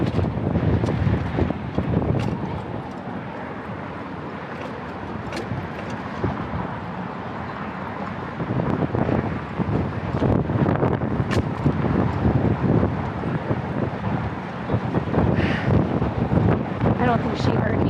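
Wind buffets the microphone throughout a bike ride, a constant loud rumbling roar with gusts rising and falling, and a voice talks intermittently underneath.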